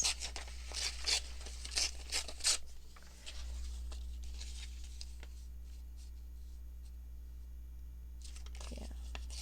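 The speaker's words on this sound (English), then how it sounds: "let's tear around this" Paper being torn by hand for a junk journal, a run of short, crisp rips in quick succession, close and fairly quiet, then stillness with only low room hum.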